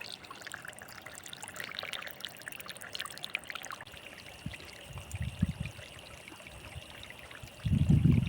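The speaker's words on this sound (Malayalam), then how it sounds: "ഉറവയാണല്ലോ അപ്പം ഈ മേളിൽ നിന്ന് വരുന്നതാന്ന് തോന്നുന്നു" A mountain spring in the Idukki hills near Muthuvakudi trickles and pours softly, faint and close, with a louder splashing burst near the end and no talk.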